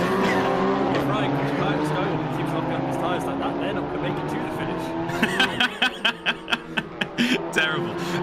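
A Seat Leon TCR races at Zandvoort in a sim race, its engine droning steadily with tyre squeal and skidding under commentator talk, followed by a run of sharp repeated clicks near the end.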